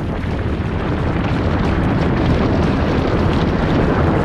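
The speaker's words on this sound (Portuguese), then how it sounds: "E então, no dia 24 de agosto, no ano 79 depois de Cristo, ele explodiu." Volcanic eruption effect for Vesuvius: a dense, loud, continuous roaring rumble with broad noisy texture, steady throughout with no breaks.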